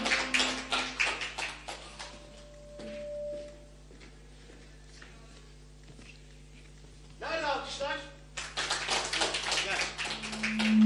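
A studio audience on a Turkish TV talk show claps for the host in brisk bursts, dense at the start and again near the end, with a quieter stretch between.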